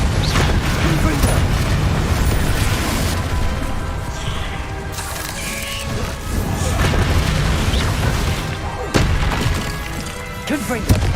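Confringo fire spells blasting in the Hogwarts Legacy video game, repeated booming impacts with shattering and splintering crashes over dense battle noise, loud and close.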